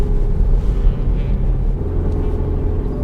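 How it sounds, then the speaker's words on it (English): A 2020 Audi Q3 40 TFSI with a 2-litre engine and automatic gearbox labours uphill, a steady, loud low rumble of engine and road noise heard from inside the cabin with no talking. "You can hear that little 2-litre engine working quite hard."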